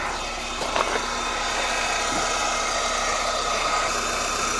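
VEVOR 5-ton electric car jack running under load, giving a steady close motor whine and hum with a couple of brief clicks near the start.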